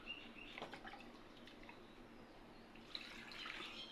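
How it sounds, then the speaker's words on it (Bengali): Water from a bowl splashes and trickles into a mixer jar, a faint, close gurgle with a brief louder splash near the end over a quiet background. "1 বাটি জল দিয়ে দিলাম।"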